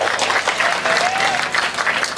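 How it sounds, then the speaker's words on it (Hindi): An audience at a Hindi comedy show breaks into loud, sustained applause, dense clapping throughout with faint crowd murmur underneath. "बजाओ ताली जरा जोरदार, ठोको।"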